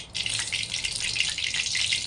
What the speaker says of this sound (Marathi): तर आपली कढई इथे गरम झाली. आपल्याला इथे टाकायचं तेल.